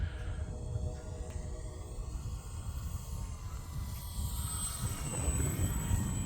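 An E-flite Valiant 1.3m RC airplane comes in to land on a windy day, its electric motor a faint, steady whine over wind rumble that swells slightly toward the end.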